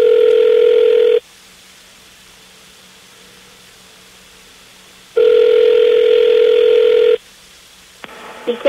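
A telephone rings in two long, loud electronic bursts separated by a pause, then a click as an answering machine picks up, with no talk over the rings.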